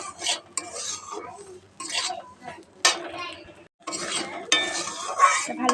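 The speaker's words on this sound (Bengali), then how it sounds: "ভালো করে নাড়তে থাকবো।" Egg semolina is stirred in a pan with a spoon, giving repeated scraping and clinking strokes in short bursts with brief pauses, close and fairly loud, alongside a faint sizzle.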